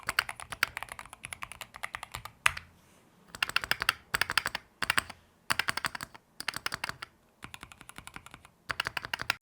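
Typing on a Keychron Q1 HE keyboard with modded stabilizers: bursts of close, crisp keystrokes in quick runs, separated by short pauses, with no voices.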